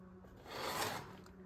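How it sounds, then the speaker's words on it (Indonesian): Grade 80 sandpaper rubs across a small workpiece in one short, soft, close stroke that swells and fades with a gritty scratch. "Ini adalah amplas kertas, grade-nya kalau tidak salah 80."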